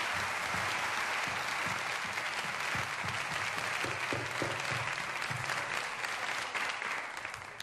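Studio audience at a Turkish television variety show breaks into sustained, dense applause, a steady wash of many hands clapping that holds for several seconds before easing slightly at the end.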